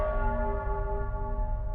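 Church bells ring in a steady, resonant sustained peal within the video game Nostradamus: The Last Prophecy, the rich tone held evenly at a moderate level.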